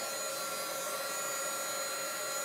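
A heat tool or dryer blowing over a thick layer of chalk paste laid on a transfer, giving a constant, loud, unbroken whooshing hum that lasts the whole moment.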